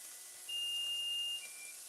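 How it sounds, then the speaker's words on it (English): A kitchen timer gives a single long, steady electronic beep lasting about a second, faint against a hissy kitchen background, with no voices. "our 20 minutes timer is up"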